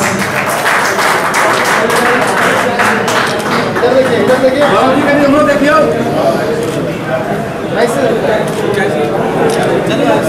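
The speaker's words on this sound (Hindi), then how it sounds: "तालियां रुकनी नहीं चाहिए" An audience applauds at a felicitation ceremony where mementos are presented to honourees. The clapping is sustained and fairly loud, with sharp individual claps and a voice speaking over it.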